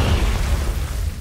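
A Confringo blasting spell in Hogwarts Legacy detonates as a loud, deep explosion with a heavy low rumble, rolling on for about a second and fading slightly at the end.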